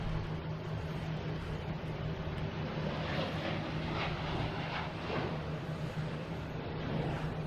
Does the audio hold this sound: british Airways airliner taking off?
yes